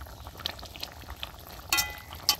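Water coming to a boil in a pot of home-cooked curry with desi koi fish and green banana, a soft bubbling simmer with occasional sharper pops and spits, faint and close.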